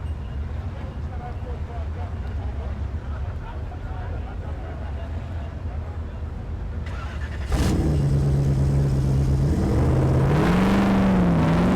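A Toyota Hilux off-road truck competing in a Tuff Truck Challenge roars as its engine revs up and climbs in pitch, loud and close, with a commentator talking over it throughout.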